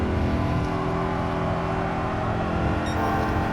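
A 2014 Honda Fit's engine drones loud and steady under throttle on a track after a downshift, a sustained close engine note with no voices.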